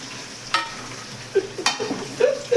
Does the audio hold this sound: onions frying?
yes